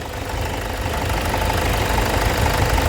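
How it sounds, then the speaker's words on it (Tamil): A Tata Sumo diesel engine idles with a steady low knocking rumble, close and continuous, with no voices. "சுமோவில் டிஏ இன்ஜின் சார் நல்லாயிருக்கும்"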